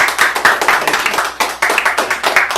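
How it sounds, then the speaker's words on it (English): At a Smash Brothers anniversary reunion Q&A, the audience gives a round of applause as rhythmic, pulsing group clapping, loud and close with regular surges, without speech over it. "can we give him a round of applause?"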